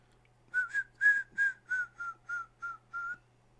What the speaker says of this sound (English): if you guys can tell what song I'm listening to by my whistling